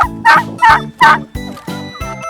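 A male turkey on a turkey farm gobbles loudly and close by, a rapid series of six throaty bursts over about two seconds, the last few slightly weaker.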